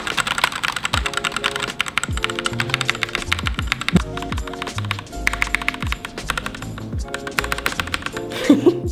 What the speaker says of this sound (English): Testing the sound. Testing the speed, but I'm not really typing anything.